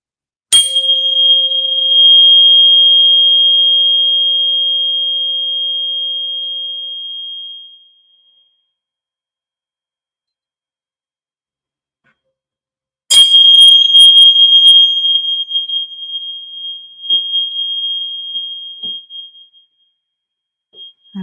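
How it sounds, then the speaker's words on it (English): A high-pitched tuning fork is struck on a selenite block and rings with a pure, steady tone that slowly fades; after a silent pause it is struck again and rings out once more, loud and close. "tuning fork"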